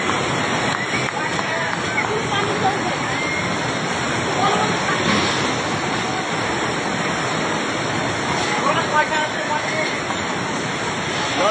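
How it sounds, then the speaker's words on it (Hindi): Floodwater rushing through Trishuli Bazaar in Nepal, a loud, steady, dense roar of churning water that fills the whole stretch without letup and buries any other sound. "जब नेपाल के त्रिशूली बाजार इलाके में अचानक से बाढ़ का पानी आया"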